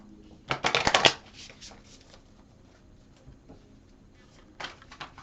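Astrology cards are shuffled in a quick riffle lasting about half a second, a crisp close rustling burst followed by quieter card handling, then a second short riffle near the end, all fairly faint.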